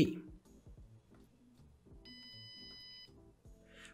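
A single electronic beep from a homemade 3000W SMD soldering hot plate controller sounds clearly for about a second, with a steady tone, amid quiet clicks and handling noises.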